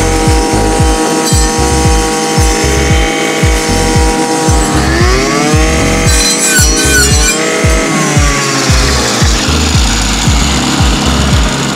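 A Dnipro-M 50RX petrol brushcutter fitted with a cutting disc chews through a bush outdoors: a loud, continuous two-stroke engine whine, pulsing and dipping in pitch as the blade bites into the branches, with no talking.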